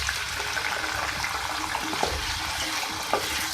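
Potatoes frying in hot oil for an aloo bhindi karahi, a dense continuous sizzle with occasional stirring clinks and scrapes, close and steady with no talking.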